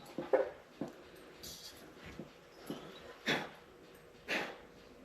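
A dog sniffs and snorts close by in short bursts, with a few faint whimpers between the puffs of breath, quiet and intermittent.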